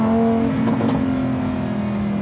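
A Lamborghini engine revs hard and close, a loud, steady sustained drone with rising and falling harmonics, heard on its own with no talk.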